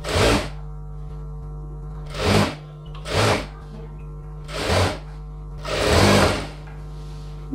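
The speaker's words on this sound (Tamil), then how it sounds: "அதே மாதிரி மேலேருந்து ஸ்டிச் பண்ணிக்கலாம்." Sewing machine stitching a chudidhar top, running in five short bursts of rapid motor whirr separated by pauses, close and clear with no talking.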